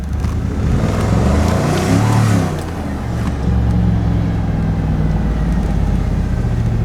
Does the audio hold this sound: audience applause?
no